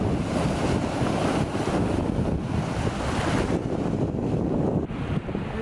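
Waves roll and break on the Algarve coast of Portugal, a steady rushing surf mixed with strong wind buffeting the microphone, continuous and close throughout, with no voices.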